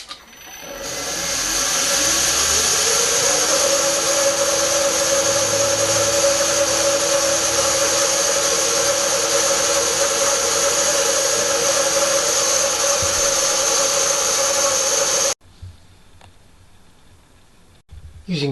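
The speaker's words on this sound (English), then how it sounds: "With the two parts bolted together, a row of 3 5mm holes are drilled." A drill runs through a row of 5mm holes in a tracksaw trenching jig, a loud steady whine with a constant pitch that holds for about fourteen seconds, then cuts off abruptly, followed by quieter handling.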